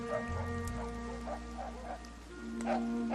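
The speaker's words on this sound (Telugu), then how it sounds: "కుక్కలు మరుగుతాన్నాయి" Dogs barking at night amid background music and a dramatic film score, with short bursts of yips and woofs spread across the clip, moderately loud and somewhat blended with the soundtrack.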